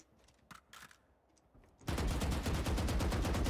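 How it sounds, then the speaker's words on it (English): Sustained rapid automatic gunfire in Valorant kicks in abruptly after a quiet stretch of scattered small game sounds, loud and continuous to the end. "Oh, he's shooting me."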